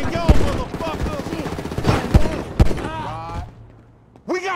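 Gunfire sounds in the video game GTA 5: several sharp shots in an irregular burst, mixed with game voices talking over the action.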